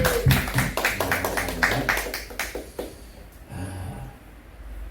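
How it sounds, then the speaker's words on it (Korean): A congregation at a church prayer meeting claps in a scattered burst of hand claps over the first few seconds, tapering off, then a voice speaks briefly near the end. "영광의 박수를 한번 올려드리겠습니다"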